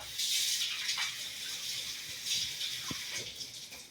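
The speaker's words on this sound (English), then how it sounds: "And I gotta rinse my hands off." Hands rinsed under a running tap while preparing a spatchcock chicken for smoking, a steady splashing water stream with small shifts as the hands move, close and alone.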